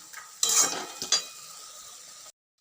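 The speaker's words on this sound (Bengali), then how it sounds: "দিয়ে ভালো করে এটা নেড়ে চেড়ে নিয়ে কষিয়ে কষিয়ে নিই" Chicken filling with turmeric and cumin stirred in a pan, a couple of sharp spoon scrapes over a soft frying sizzle that continues briefly before cutting off.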